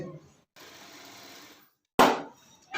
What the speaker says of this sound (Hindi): और फिर आप सिलाई दें